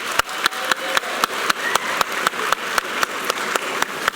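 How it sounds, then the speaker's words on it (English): Clapping at a school district convocation, heard as a steady, evenly spaced run of sharp single claps, close and distinct rather than a full crowd. "Just a round of applause."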